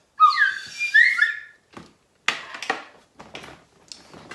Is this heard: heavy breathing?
no